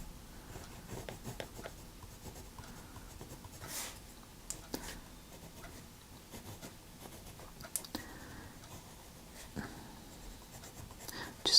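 Colored pencil shading on paper while coloring a miniature box house, with soft scratchy strokes in irregular bursts, close and quiet, interrupted by a few sharper taps.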